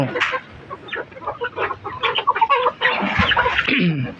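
Chickens cluck busily at feeding time on a farm, a dense flock of overlapping clucks and short calls close by, continuous throughout with no talking.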